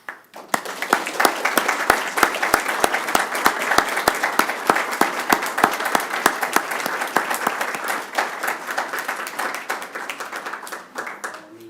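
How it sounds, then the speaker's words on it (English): Warm applause at a city council meeting honoring a Pride community member, a roomful of people clapping steadily and loudly for several seconds before tapering off near the end. "please give a warm applause to Rick's efforts"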